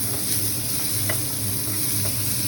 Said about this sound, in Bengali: আস্তে আস্তে এটা হালকা ভাজা হবে